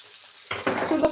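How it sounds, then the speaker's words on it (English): Butter hits a hot pan and sizzles loudly, with steady crackling and spitting. Utensils clink briefly near the end while salmon is cooked. "So I'm going to add just a small amount of butter."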